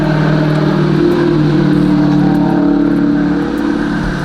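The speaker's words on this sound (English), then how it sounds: "it's this road that my dad's shop is on, it stays busy, so y'all gonna hear a lot of cars be coming through" Cars go by on a busy road, their engines humming and whooshing past close by in a continuous, loud roar.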